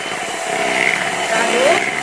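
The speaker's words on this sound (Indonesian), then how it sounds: "kecepatan mixernya diturunin jadi kecepatan 2 aja, lalu kita kocok" An electric hand mixer whirs at speed 2 while beating batter for a zebra sponge cake, a steady close motor drone with a faint rising whine, running alone throughout.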